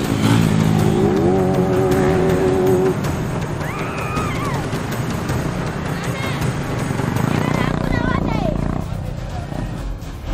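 Motorcycles rev during risky street stunts on the wide roads of Nava Raipur, engines rising and falling in pitch in a couple of clear surges over steady traffic noise, with someone narrating over the top.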